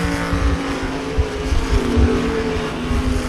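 Race cars roar around the Devil's Bowl Speedway dirt oval, engines droning loud and close with rising and falling pulses as cars pass, and no talk over the racing.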